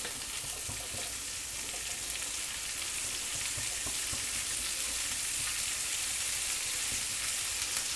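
Freshly cut onion fries in hot oil for kachori filling, a steady, bright crackling sizzle that holds evenly from start to finish with no voices.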